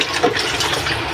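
Water splashes and gurgles as it is poured into a rice cooker's inner pot over rice, a short, close, continuous pour with no talking.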